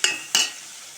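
Two quick scraping stirs of vegetables frying in a hot pan, each a sharp sizzling swipe followed by a fading hiss, close and alone with no voices.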